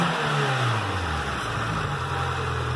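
A Renault Logan 1.0 engine with its stock air filter revving steadily, a loud continuous mid-pitched drone with slight rises in pitch, close to the microphone.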